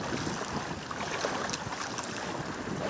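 Oars slap and splash against waves as a small rowing boat crosses the water at Xuan Thuy National Park, with a light wind rushing steadily across the microphone and no voices.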